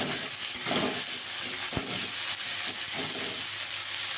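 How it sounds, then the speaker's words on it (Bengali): Onion, garlic and green chili frying in a pan for an aubergine mash, a loud continuous hiss and sizzle close up with a faint clink partway through. "এটা একটু লাল করে ভাজবো, খুব লাল না, একটু রং ধরা পর্যন্ত ভাজবো আমি।"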